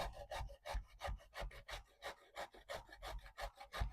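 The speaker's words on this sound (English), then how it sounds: "All right, so grate up our zucchini." Fresh zucchini rubbed against a hand grater for zucchini bread, producing a steady run of about fifteen quick, rasping strokes, close but fairly soft, with no talking.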